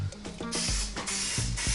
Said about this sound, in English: Just touch these up with some cooking spray there.